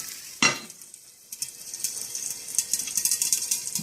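Mustard seeds pop in a hot pan: a soft, steady sizzle with scattered small crackles and pops, one sharper clatter near the start, and no voices.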